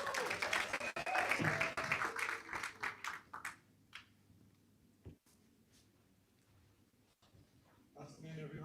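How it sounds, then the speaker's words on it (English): Brief applause from a summit audience rises loudly at first, then thins to scattered claps and fades into quiet room noise, with a few isolated claps and a voice near the end. "Please clap."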